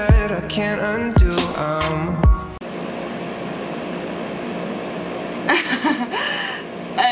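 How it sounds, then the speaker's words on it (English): A loud, steady air conditioner whirs with a constant broadband hiss, preceded by a few seconds of voice and music, with brief talk returning near the end. "This AC is just too noisy for no reason."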